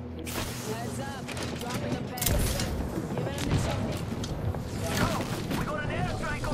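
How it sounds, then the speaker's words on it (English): Airstrike explosions and gunfire in a video game, heard as a rough, busy rumble with several heavy blasts and crackling bursts under people talking over the action. "We got an airstrike!"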